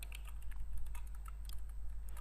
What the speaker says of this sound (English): Now I'm just typing